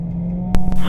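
An engine hums steadily inside a Ford Puma race car on track at Cadwell Park during a CSCC Puma Cup session, a loud, close drone with a couple of sharp clicks and a rising rush at the very end of a one-second burst.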